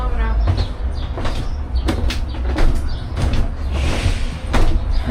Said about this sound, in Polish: Wchodzimy sobie na kolejeczkę.